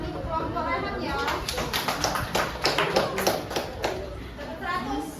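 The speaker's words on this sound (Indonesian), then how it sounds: "silakan diberi tepuk tangan untuk kelompok Rehan ya" Classroom applause for a pupils' group after a biology lesson presentation: a scattered patter of children's hands clapping, rising and then fading, with children chattering underneath.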